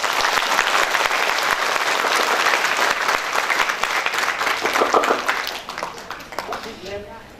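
Loud, dense applause fills a large crowd at a prophecy and healing festival in Agartala, Tripura, sustained for several seconds before tapering off, with voices mixed in.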